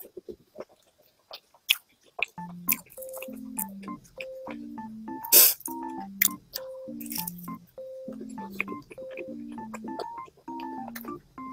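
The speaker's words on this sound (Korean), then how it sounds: "양파도 아삭아삭 씹히고." Crunchy chewing of a bagel with crisp onion, a series of close, rhythmic bites and crunches in quick succession, with soft tonal beeps sounding intermittently in the background and no talking.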